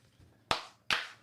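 Two sharp hand claps ring out in celebration, evenly spaced less than half a second apart, close and crisp against a quiet room.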